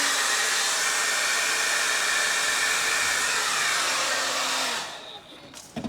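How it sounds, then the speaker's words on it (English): A farm blow dryer warms a wall on a cold winter day, its loud, steady whirring rush holding constant before cutting off abruptly near the end. "farm blow dryer."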